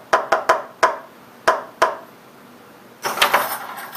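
A secret knock pattern rapped on a door fitted with an Arduino knock-detecting lock: a quick uneven rhythm of about seven crisp raps close by, then a burst of faster clattering knocks.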